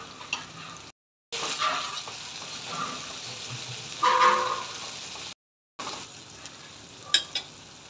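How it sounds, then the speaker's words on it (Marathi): Ground spices (turmeric, chili powder, coriander, cumin and garam masala) sizzling and being stirred in a hot pan for dhaba-style matar paneer, with steady frying crackle and a few scraping stirs, broken by two brief silent gaps. "मसाले टाकून छान प्रकारे फिरवून घेतला"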